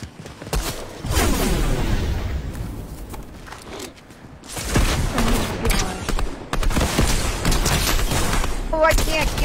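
Gunfire in the video game Apex Legends, with rapid bursts and fusillades of shots, booms and whooshes, loud and close, in clustered volleys with short lulls between them.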